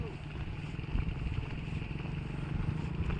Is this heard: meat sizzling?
no